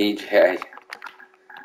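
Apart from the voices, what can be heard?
computer keyboard typing letters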